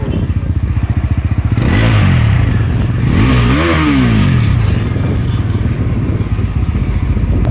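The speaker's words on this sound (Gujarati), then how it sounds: "ખાલી અવાજ કરી દો ગાડીને" A motorcycle engine revs loudly and continuously at close range, its pitch climbing and falling back in surges through the middle, with faint voices underneath.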